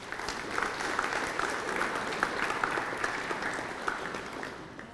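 Steady applause from an indoor crowd, a dense patter of many hands clapping at an even level throughout, with no voices over it.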